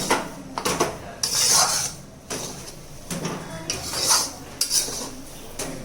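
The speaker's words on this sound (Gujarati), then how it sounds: "મિક્સ કરીને ધીમા તાપે શેકવાનું. આ મિક્સ કરીને હલાવતું રહેવાનું." Mohanthal mixture is stirred in a pan over a low flame, with repeated metallic scrapes and clinks of a spoon against the pan coming in uneven strokes, loud and close.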